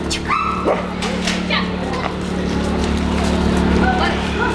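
A search dog gives several short yips and whimpering barks amid a busy, noisy background in Kharkiv, with people talking nearby.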